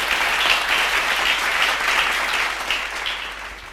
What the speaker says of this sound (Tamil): கைத்தட்டி வருது